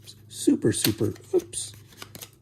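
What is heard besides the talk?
shuffling a deck of playing cards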